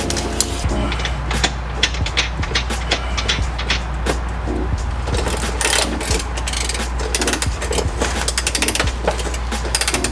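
Wrench ratcheting bolts tight on a Volvo 240 while fitting two new gaskets, a steady run of close metallic clicks over a constant low engine-bay hum, no talking.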